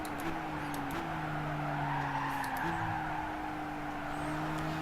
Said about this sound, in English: So we're going to brake again.